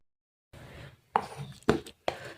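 Cumin and spice mixture crushed finely for masala bhindi gives a few hard, close pounding knocks, three sharp strikes after a softer grinding scrape, in a quiet room.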